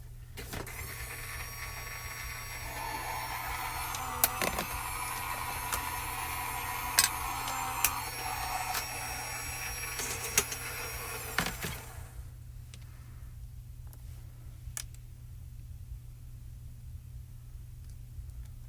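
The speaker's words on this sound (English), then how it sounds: "And while we run that through the die cutting machine" A die-cutting machine runs steadily with a whirring motor and periodic clicks for about twelve seconds, then stops and leaves a quiet background with faint ticks.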